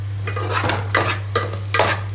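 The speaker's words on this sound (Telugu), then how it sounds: "కారము అలాగే కొంచెం ధనియాల పొడి వేసి కలుపుకుందాం" A spoon stirs chili powder and coriander powder into a spring onion and egg curry in a pot, with several scraping strokes spaced irregularly over a low steady hum, close and fairly loud.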